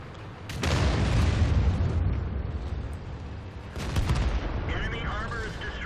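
Tank cannon fire and a heavy explosion destroying an enemy in World of Tanks, a loud booming blast followed by rumbling, another crash, then a brief voice-like tone at the end.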